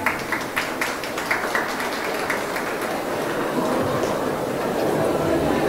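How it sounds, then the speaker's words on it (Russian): Audience applause at a Moscow State University student autumn ball in a hall, steady clapping from a crowd for several seconds, with a voice speaking over it. "Аплодисменты, друзья."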